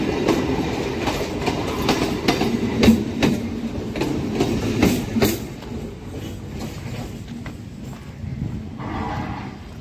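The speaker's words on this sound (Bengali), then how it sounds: "এই খালের ওপরে এই ব্রিজ, যে ব্রিজ দিয়ে এখন ট্রেনটা যাচ্ছে।" A train crossing a bridge over Keshtopur canal in Kolkata, its rumble and rhythmic wheel clatter loud and near at first, then easing as it passes, with steady background noise continuing.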